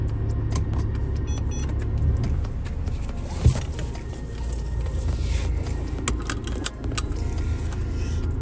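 A Mercedes car idles with a steady low engine rumble, with a sharp clunk partway through, light jangling and clicking, and another knock near the end.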